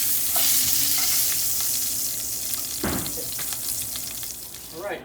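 Pork tenderloin medallions sear in a hot pan with a loud, continuous sizzle, a brief scrape or shift near the middle and a fainter stir at the end.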